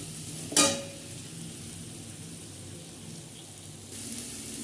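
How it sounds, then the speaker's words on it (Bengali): Potatoes and pointed gourd fry with ground coriander, cumin and Kashmiri chilli powder in a pan, giving a soft continuous sizzle. A single sharp scrape of a spoon comes early, and the crackle grows slightly louder near the end. "এগুলোও ভালো করে নেড়ে চেড়ে মিশিয়ে নেব।"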